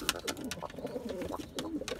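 Pigeons cooing softly in a loft of Edirne play pigeons, repeated throaty coos with a few wing or movement sounds, close by and alone with no talk.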